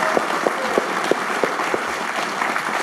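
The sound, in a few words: audience applause for Peter Lynch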